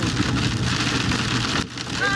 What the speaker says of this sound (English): There's a little bit of hail in there too.